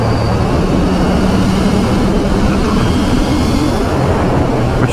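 A KTM 890 Duke GP motorcycle engine held at open throttle in gear, a loud, steady, continuous roar with broadband rushing noise and no breaks throughout.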